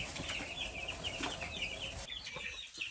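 Turkeys in a pen cluck and chatter in a busy, overlapping flock, with occasional wing flaps and brief sharper calls at moderate distance, no voices present.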